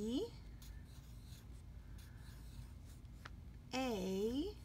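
A sentence written by hand on lined paper in a sight-word lesson, soft scratchy strokes in short irregular bursts, close and faint, with a voice speaking at the start and the end.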